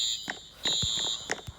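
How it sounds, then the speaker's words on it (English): Fire alarm in a video game, a steady high electronic ringing tone with short sharp pulses over it, looping for a second or two at moderate volume with no talk. "The fire alarm went off"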